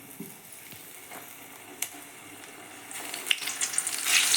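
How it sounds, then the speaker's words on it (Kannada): Battered green chilies for mirchi bajji crackle and sizzle in hot oil, a soft continuous frying hiss with small pops that grows louder and busier toward the end. "ಈಗ ಎಣ್ಣೆ ಕಾದಿದೆ, ಮೆಣಸಿನ್ಕಾಯಿ ಅದ್ದಿ ಇದರೊಳಗೆ ಹಾಕೋಣ"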